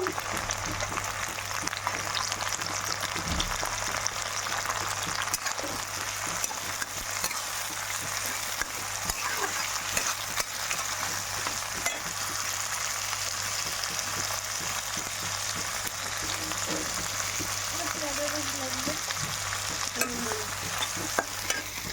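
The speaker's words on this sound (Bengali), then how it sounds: "কিশমিশ কাজুটা দিয়ে দিচ্ছি, একটু ভালো করে ভেজে নেব।" Raisins and cashews frying in hot oil for pulao, a constant close sizzle with scattered stirring scrapes and clicks throughout, without speech.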